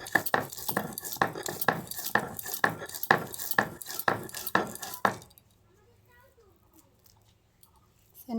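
Pointed gourd chutney is ground on a stone shil-nora, with about ten regular, close scraping strokes roughly every half second. The strokes stop abruptly, leaving near silence.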